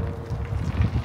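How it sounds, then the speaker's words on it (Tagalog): Wind blowing outdoors on a cold day near a Costco in Canada, a steady low rumbling buffet against the microphone with gusts swelling toward the end, no voices. "Mahangin siya guys, kaya medyo malamig."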